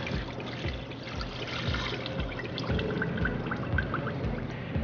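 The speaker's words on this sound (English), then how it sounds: "Be careful when you pour it in here, you don't splash it everywhere and get it all over yourself." Cold tap water is poured into a pot over whole chicken pieces, a close, continuous gurgling pour with trickling and splashing that carries on steadily with no one talking.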